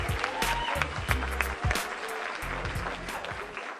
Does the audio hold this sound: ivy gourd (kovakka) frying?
no